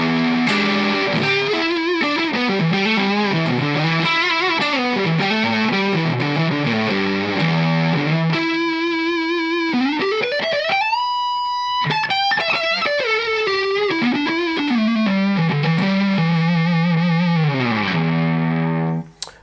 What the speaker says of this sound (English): Here's that next single coil sound, but in the overdrive mode.